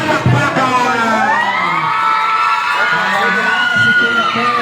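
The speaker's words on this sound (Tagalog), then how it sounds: "isang malakas na sigawan na may kasamang palakpakan" A loud crowd at a community service event in Antipolo, Rizal, shouting and cheering with whoops and children's high voices, sustained and close throughout.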